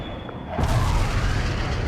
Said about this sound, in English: Laser-guided bomb strike completed.